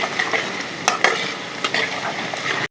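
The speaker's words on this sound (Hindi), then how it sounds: "इसका हल्का सा भून लेंगे।" Marinated cluster beans with turmeric fry steadily in a pan, a loud, continuous sizzle with a few sharp stirring scrapes and clinks of the utensil against the pan.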